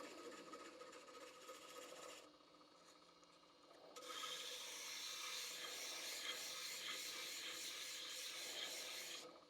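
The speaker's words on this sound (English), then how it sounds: "with the way I did that with the 80 grit, I can go straight to 120" Sandpaper of 120 grit rubbed by hand in steady back-and-forth strokes, a close, dry scratchy rasp that dips briefly to a softer texture before returning louder and continuous.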